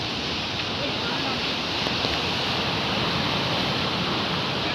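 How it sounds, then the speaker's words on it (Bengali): Sea waves at Kanyakumari roll in under a light drizzle after dark, a dense, even roar of surf and rain that stays loud and unbroken throughout with no distinct individual crashes. "দেখো পুরো চতুর্দিক অন্ধকার, ঝিরঝির করে বৃষ্টিও শুরু হয়েছে। এই হচ্ছে সমুদ্র।"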